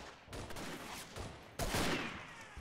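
Gunfire in the WWI shooter Verdun, with a burst of distant shots and then a louder, nearer blast around the middle, all over a steady wash of battlefield noise.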